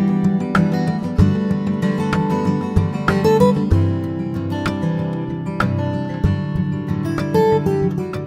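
Sampled Gibson J45 acoustic guitar from the Evolution Songwriter library plays a bright, clean part with picked notes and strummed chords, ringing steadily throughout as part of a full track.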